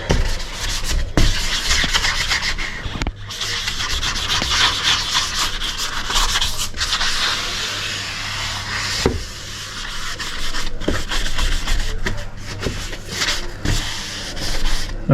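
Light hand sanding of a uPVC door before painting, a soft continuous scratchy rubbing in repeated strokes with short pauses between passes, close and steady, no talk.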